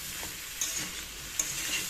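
Eggplant pieces fry lightly with ground spices in a pan, a faint, soft sizzle broken by a couple of brief clicks from stirring.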